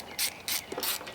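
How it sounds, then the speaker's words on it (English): A 5/16 palm ratchet clicks in quick bursts while turning a bolt on a Cub Cadet mower, several short close ratcheting runs separated by brief pauses. "Got my 5/16 on one of these palm ratchets"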